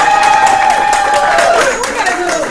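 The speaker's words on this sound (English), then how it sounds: "Can I get another applause?" An audience at a business mastermind meeting applauds and cheers in a dense burst of clapping, while a voice carries over the crowd noise.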